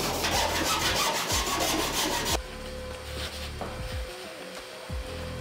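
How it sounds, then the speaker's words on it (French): Cut edge of sheet metal being deburred to remove iron filings while fitting a roof hatch on a converted van: steady, rapid rasping strokes, loud and close, then sparser scraping passes with brief pauses, no talk. "On va pouvoir passer à l'ébavurage pour enlever la limaille de fer"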